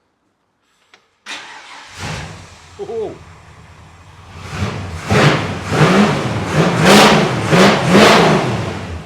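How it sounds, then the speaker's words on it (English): A car engine cranks and catches after a brief click, then revs up and down repeatedly, loud and close, with a short exclamation near the start. "I'll fire him up in a second."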